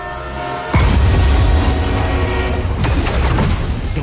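A runaway train in a video game, a tonal horn-like hum that gives way to a sudden loud crash into a heavy, rumbling roar of the train that stays loud and continuous to the end.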